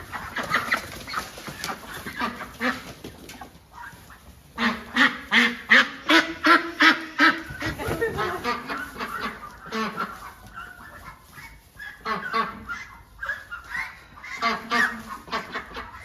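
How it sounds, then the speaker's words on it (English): Many young ducklings on a smallholding give busy, overlapping peeping and quacking calls in rapid bursts, close and fairly loud, with no talking. "these are them little cute ducklings that you're seeing on the 28th of January."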